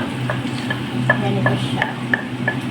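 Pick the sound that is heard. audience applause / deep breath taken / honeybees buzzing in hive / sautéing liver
sautéing liver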